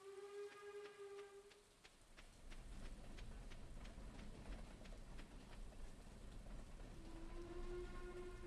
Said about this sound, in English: Looks like it was a passenger train because no items are here.